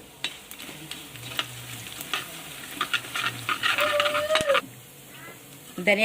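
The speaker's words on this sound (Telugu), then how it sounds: "నూనె అయితే కాగిపోయింది. ఇందులో జీలకర్ర అయితే వేగిపోయింది." Cumin and coriander seeds frying in hot oil, a close continuous sizzle with crackling pops and spoon clatter, while someone talks over it.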